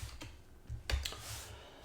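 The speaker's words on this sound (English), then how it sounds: "press the upper arrow key on my keyboard repeatedly" Key presses on a computer keyboard at a terminal: a few soft, scattered clicks and taps, faint and close, with no voices.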